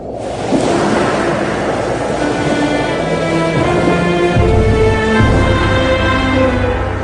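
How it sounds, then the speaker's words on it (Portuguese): A strong east wind and sea waves make a loud, continuous, close roar with a deep rumbling undertone throughout. "com um vento leste muito forte, fez com que o mar recuasse"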